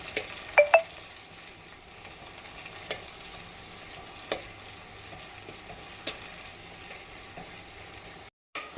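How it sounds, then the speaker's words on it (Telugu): Onions frying in a pan for chicken curry, cooked to light brown, give a steady close sizzle with a few sharp clinks and scrapes from stirring, with no talking. "ఇప్పుడు ఆనియన్స్ లైట్ బ్రౌన్ కలర్ వచ్చేదాకా ఇలా కొంచెం వేయించుకుందాము"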